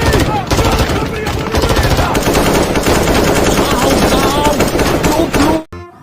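Rapid burst of toy gun shooting effects imitating an AWM sniper rifle, loud dense rattling fire sustained for several seconds before cutting off abruptly.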